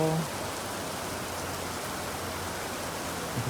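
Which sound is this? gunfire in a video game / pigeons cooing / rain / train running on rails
rain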